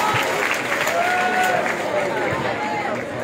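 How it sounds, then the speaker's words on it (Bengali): A crowd applauds at a school award ceremony as a crest is presented, a dense continuous patter of many hands close by, with some voices mixed in. "এটি জোরে করতালি হবে।"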